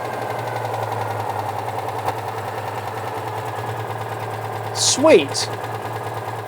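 Beside a barn-find classic car, its engine idles low after dropping off fast idle, with a steady, slightly knocking beat; a voice briefly speaks a word over the engine near the end.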